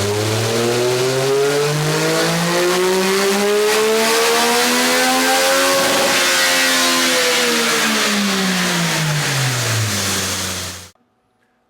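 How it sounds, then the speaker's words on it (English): Stock 2026 Triumph Speed Triple 1200 RX on a dyno, its engine pulling a long rising run with the pitch climbing steadily to a peak, easing off, then cutting to silence near the end; loud and close, no talk. "Let's go ahead and get this thing running on the dyno and see exactly what she does stock."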